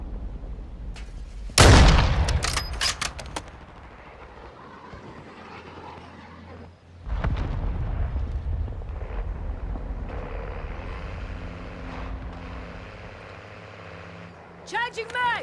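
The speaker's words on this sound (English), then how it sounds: "Cruise missile launched." A cruise missile launches and detonates in Call of Duty: Modern Warfare II: a sharp, loud blast near the start, then a second heavy roaring burst that rumbles and fades, with game voices and background battle noise throughout.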